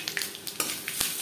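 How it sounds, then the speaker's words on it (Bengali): Three dried red chillies frying in hot mustard oil, giving a bright, continuous sizzle with small crackles and a couple of sharper spits over a short stretch. "সরষের তেল গরম করে নিয়েছি। দিয়ে দিলাম 3টে শুকনো লঙ্কা।"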